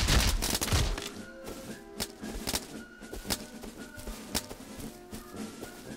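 Gunfire in the survival game Rust, with a loud burst at the start followed by a string of sharp, irregular shots spread over several seconds, some louder and nearer, others quieter.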